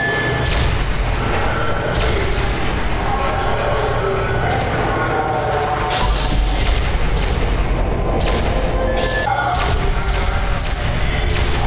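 Repeated explosions in a shooter video game, several loud bursts breaking out at intervals over a constant din of gunfire and rumbling effects.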